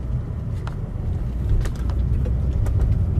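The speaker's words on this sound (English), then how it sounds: "A lot of cars coming and going." Cars come and go along a road in the near west suburbs of Chicago, a continuous low traffic rumble with passing vehicles swelling slightly louder toward the end, no voices present.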